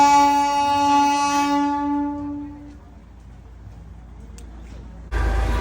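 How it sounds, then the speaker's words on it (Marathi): A train horn sounds loudly, then fades as the train rumbles and slows to a stop at a station beside a hotel in the Sikkim–Darjeeling region, with a sudden burst of low noise at the end. "इथे बघा हॉटेलच्या बाहेरच ट्रेन येऊन थांबली"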